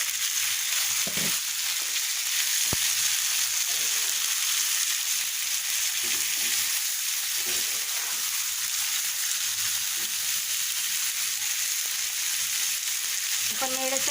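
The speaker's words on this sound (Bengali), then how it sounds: "কচুর ডাঁটাগুলো নেড়ে দিয়ে চচ্চড়ি করবো" Boiled taro stems cook with shrimp in a hot oiled pan for a Bengali chorchori, a steady close sizzle of frying with occasional scrapes and clicks of a stirring spatula, no voices.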